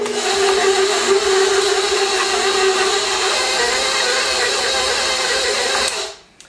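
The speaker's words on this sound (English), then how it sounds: "I'm gonna go ahead and mix that up in the mixer a little bit before I add the sugar" An electric stand mixer creams butter and cream cheese with a steady, loud whirring hum, then winds down and stops near the end.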